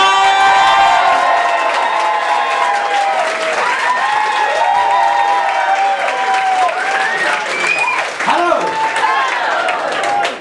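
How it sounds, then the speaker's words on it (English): Loud applause and cheering from a comedy club audience greeting the last act of the night, with whoops and shouted voices layered over steady clapping throughout. "Let's give this man a very, very large round of applause."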